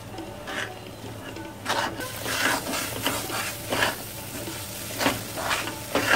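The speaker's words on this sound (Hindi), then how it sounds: "इस तरह से बराबर चलाते हुए भूनना है।" Moong dal roasts in ghee in a kadhai over medium heat while a spoon stirs it steadily, giving a continuous close sizzle with rhythmic scraping strokes against the pan.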